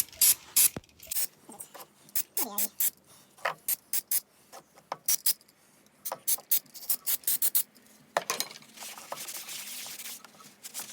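Bursts of brake cleaner sprayed onto a Mercedes 230 M111 engine's camshaft magnet area, a long series of short hissing blasts, some close together and others spaced apart, fairly near and loud, with faint mechanical clicks between them.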